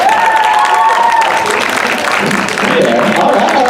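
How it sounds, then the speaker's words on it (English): A dinner theatre audience applauds and cheers loudly, with sustained clapping mixed with whoops and crowd voices throughout. "give her a round of applause"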